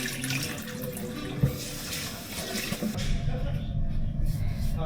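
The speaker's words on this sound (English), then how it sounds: "I'll scoop 2 cups of rice into the pot and rinse it twice with water" Water runs and splashes into a pot as two cups of rice are rinsed in a home kitchen, a steady close-up rush that shifts in tone partway through.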